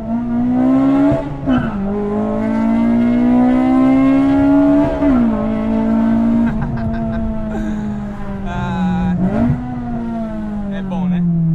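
A car engine revs loudly and continuously, its pitch dipping and climbing with gear changes and throttle blips, close to the listener.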